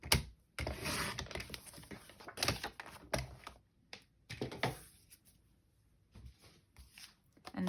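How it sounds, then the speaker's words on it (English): A paper trimmer slicing a 6x6 inch sheet of craft paper, with a series of sharp, close scraping and clicking bursts separated by short silences, fading toward the end. "So we'll go ahead and cut it at 3."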